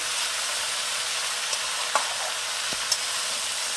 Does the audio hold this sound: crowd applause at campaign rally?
no